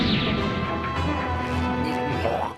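A heavy crash from the One Piece fight in which Luffy smashes Crocodile through a mausoleum roof: a loud, dense burst of rumbling impact and debris that holds for about two seconds before tapering off. Nobody speaks.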